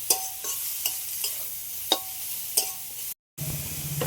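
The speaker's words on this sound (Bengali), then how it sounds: "আর এই সবজিগুলো একটু হালকা করে ভেজে নেব।" Vegetables for a vegetarian momo filling lightly fried in a pan, a soft sizzle under regular clinking stirs of a spoon, about six in a row, then a brief dropout.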